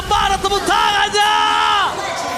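A loud crowd cheers and whoops together at a Mobile Legends esports match arena, a sustained roar of voices with yells rising and falling, though applause is not clearly separable.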